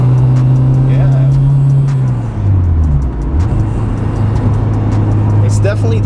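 Honda Civic Type R engine droning loud and close in the cabin, then dropping in pitch and blipping back up through a downshift before settling at a steady hum; a person talks briefly over it.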